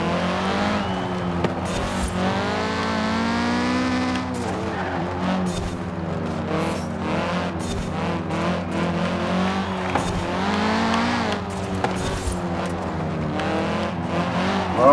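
A 2015 Audi TTS Coupe in Forza Horizon 4 races at high speed in sixth gear, its engine droning loud and steady with shifting pitch and brief tire squeal through corners.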